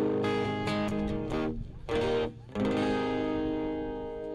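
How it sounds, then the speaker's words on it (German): Electric guitar played through an amplifier at a street demonstration, ringing sustained chords with effects and distortion, loud and close, in bursts with short pauses, no voices. "Oh, die Gitarre hört man schon mal?"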